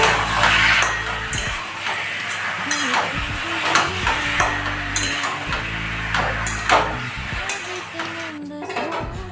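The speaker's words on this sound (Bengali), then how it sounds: "নেড়ে নেব।" Spoon or spatula scraping and clattering against a pan while chilli chicken with turmeric and chilli powder cooks, steady stirring strokes over a soft sizzle, close and fairly loud, no talking.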